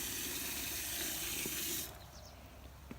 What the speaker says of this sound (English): We put some water in here.